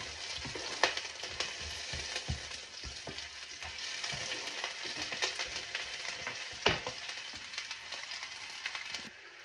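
Tiger giant shrimp frying in hot oil in a wok, a crackling sizzle with frequent sharp pops and spatters, moderately quiet and continuous, no voices.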